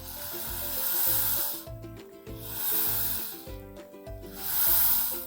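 A rattly cardboard tube shaker swished in three bursts, a hissing, sizzling wash of beads over a steady background tune.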